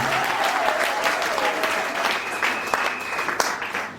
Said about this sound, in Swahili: Pigia makofi, Mungu amsaidie kumwelekea kumpatia.